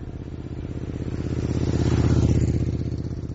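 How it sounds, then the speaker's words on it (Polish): A motorcycle engine idles and rumbles nearby, its steady mid-pitched putter swelling slightly louder as the bike pulls up, with no voices over it. "Czy to nie twój ojciec właśnie przyjechał na motorze?"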